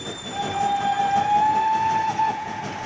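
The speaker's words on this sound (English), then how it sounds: "Maddie, we seem to be on board some kind of a train." A magical disco train rolls along with a steady rumble while a long, clear whistle tone sounds over it for about two seconds.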